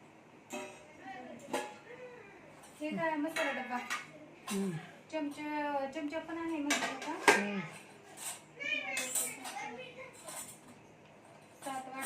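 Cooking pots and metal plates are picked up and set down with clanks and rattles in a household kitchen, while people talk throughout.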